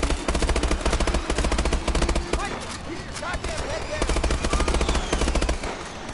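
Rapid automatic gunfire in the Call of Duty: Advanced Warfare campaign, with dense, loud bursts firing almost nonstop through the clip and a short lull in the middle, with some talk mixed in.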